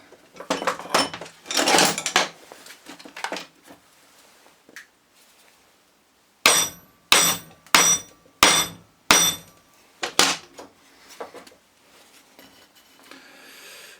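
Several sharp metallic hammer blows on a Ford Transit alternator shaft, about six in a steady rhythm, strike close by after a stretch of clattering and quieter handling noises.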